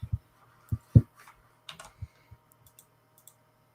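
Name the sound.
loud clicking of a mechanical keyboard being typed on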